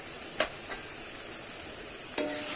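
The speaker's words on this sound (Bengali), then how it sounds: "এবারে আমি কিন্তু এটা আবার ভালো করে কষিয়ে নেব।" Chicken and ground spices, including chili powder, sautéed in a pan for Bengali-style chicken kosha, giving a steady soft sizzle with two brief scraping stirs of the spoon.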